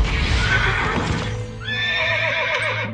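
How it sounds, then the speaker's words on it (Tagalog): A horse neighs in an MMORPG fantasy game, its loud whinny rising and wavering over the game's busy ambient audio, with a harmonic trill toward the end. "So ayan may libre tayong kabayo."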